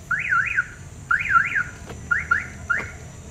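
A Hyundai car alarm wails close by in repeated rising-and-falling warbling bursts, loud and insistent, with a faint steady hum underneath.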